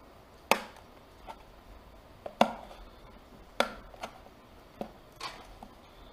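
A knife prying at the plastic clips of a WD My Book 2TB hard drive enclosure, giving sharp isolated snaps and clicks at irregular intervals, close and fairly quiet, with no talking.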